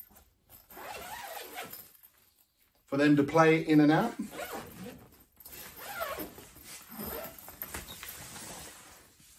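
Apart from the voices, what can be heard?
zipper on a children's fire truck play tent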